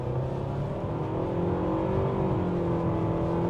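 A 2025 Mitsubishi Outlander SEL Premium SUV with a CVT accelerates under gas, its engine drone holding a steady rising hum from inside the cabin, smooth and moderate in loudness.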